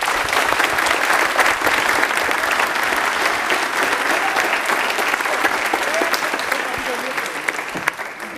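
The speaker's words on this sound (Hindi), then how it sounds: "तो फिर अर्नव के लिए तालियां एक बार जोरदार बजा दीजिए।" Loud, sustained applause from a studio audience cheering a quiz contestant who answered a railway question correctly on a televised quiz show, dense clapping steady for the whole stretch, easing slightly at the end.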